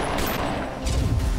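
A Doctor Who episode carries a burst of rapid gunfire, loud and dense, the shots running together into one sustained barrage.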